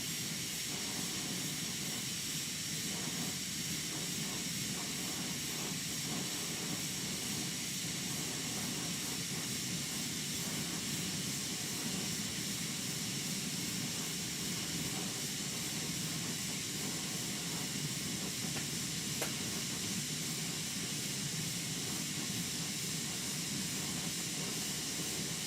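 A glassblowing torch flame hisses steadily and broadly at moderate level throughout, a constant rushing roar with no pauses and no voices.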